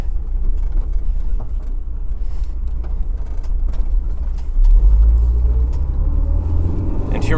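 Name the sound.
Honda AP1 S2000 engine accelerating on track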